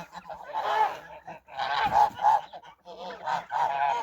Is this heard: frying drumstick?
no